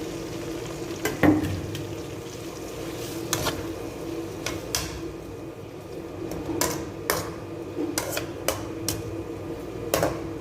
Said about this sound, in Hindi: अब इसमें प्याज डालेंगे और प्याज को ब्राउन कर लेंगे।